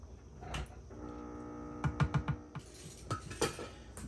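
A spoon scrapes and clinks against a pot of Appalachian-style tomato soup being stirred, with a quick run of metallic knocks and a few later clinks over a low hum.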